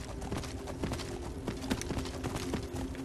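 Horse hooves walking in the video game Skyrim, a steady, even clip-clop of footfalls at moderate volume, repeating evenly for a few seconds over a faint game ambience.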